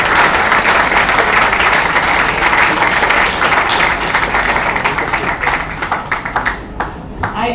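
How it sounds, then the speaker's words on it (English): Loud, dense audience applause at a young novelist's book launch rolls on steadily, then thins toward the end into sharper individual claps. "Let's give a big round of applause to our young novelist Zuni."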